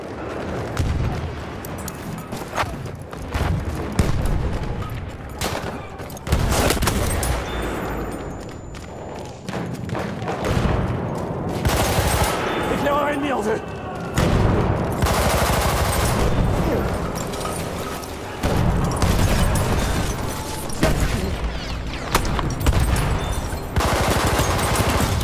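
SMG 08 submachine gun fire in Battlefield rattles in rapid bursts among heavy explosions and thuds, loud and dense, with brief gaps between volleys throughout.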